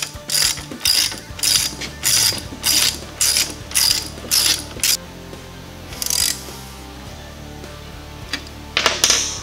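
A ratchet spins a nut onto the axle of a K5 Blazer during a one-ton axle swap, eight quick rhythmic bursts of clicking followed by a pause and two more bursts, close and fairly loud.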